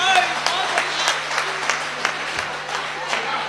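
A crowd at a Hindi stand-up comedy show claps and applauds steadily, a dense wash of many hands with slight swells in intensity throughout.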